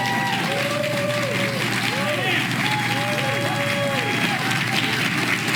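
A studio audience applauds to welcome House Judiciary Committee Chairman Jim Jordan, a steady, dense wash of clapping and crowd noise that carries throughout, with voices mixed in underneath.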